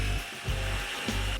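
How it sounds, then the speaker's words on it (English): A power drill whirs steadily with a low motor hum, dipping and surging a few times as the bit bores a 5/16 inch hole into wood, close up. "I can then drill a 5/16 inch hole"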